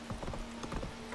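Horse hooves clip-clop at a steady trotting rhythm in The Witcher 3 video game, close and fairly quiet over a constant low background hum.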